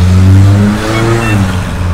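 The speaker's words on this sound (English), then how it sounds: "I love little cars that have mufflers that make them sound like a sports car." A small car fitted with a sporty aftermarket muffler rumbles past outside an Italian bakery, its deep engine note loud and steady, rising slightly as it goes by with no talking over it.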